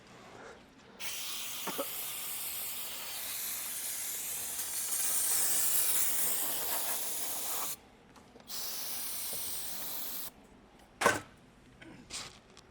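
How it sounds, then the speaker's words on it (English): Brake cleaner sprayed from an aerosol can onto a car's intake manifold in a garage, several loud close hissing bursts of a second or more, separated by short pauses. "take a can of Bree Clean, just clean it off a little bit"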